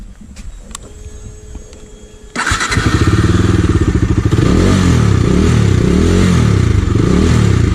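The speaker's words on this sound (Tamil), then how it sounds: "இப்போ வந்து 3 வண்டியோட எக்ஸாஸ்ட் நோட் கேட்கலாம்" A KTM, Husqvarna Vitpilen or Bajaj Dominar 250 motorcycle engine starts with a clatter, then settles into a loud, close, throaty idle with a rhythmic, deep twin-barrel exhaust burble.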